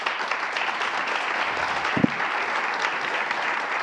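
An audience at a Geneva policy outlook launch event applauds steadily, a dense, even wash of clapping from many hands that holds at a constant level throughout.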